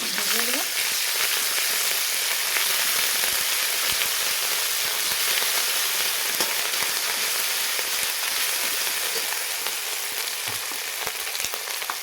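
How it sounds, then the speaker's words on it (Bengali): Garlic and ginger paste frying with onions in a pan, a steady, even sizzle and crackle held at one level throughout, close up, with a few faint knocks. "এখন আমি দিয়ে দেবো 1 চামচ রসুন বাটা আর 1 চামচ আদা বাটা। এটা ভালোভাবে আমি একটু ভেজে দেবো।"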